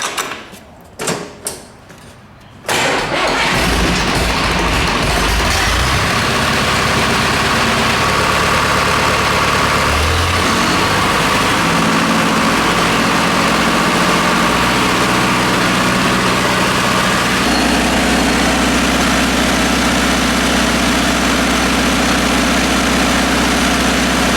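A diesel tractor engine cranks and catches after a few seconds of quiet, then settles into a loud, steady low idle with slight shifts in pitch and a deeper, heavier drone in the final stretch.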